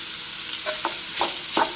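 Carrot rice with coriander stirred in a pan, a spoon scraping and clinking in four distinct strokes over a steady low sizzle, close and moderately loud with no voices.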